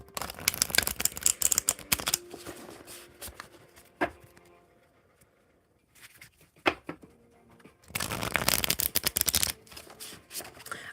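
Tarot cards shuffled by hand in dense, crisp riffling bursts, loud at the start and again near the end, separated by a quieter stretch with a few isolated taps and card slaps.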